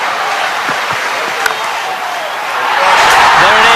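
Cricket stadium crowd roaring and cheering as Herschel Gibbs reaches his ODI hundred during a record 438 run chase, a dense sustained wall of noise that swells louder toward the end, with scattered whistles and no one speaking.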